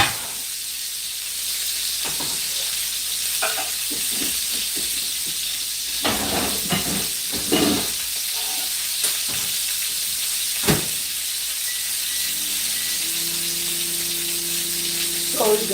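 Onions frying in a pot for palm nut soup give a steady sizzling hiss throughout, broken by occasional clinks and scrapes of stirring, with some faint background noise.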